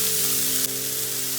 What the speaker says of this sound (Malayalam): ഇനി അതേ എണ്ണയിൽ തന്നെ നമുക്ക് ഈ സവാള ഇട്ട് കൊടുക്കാം.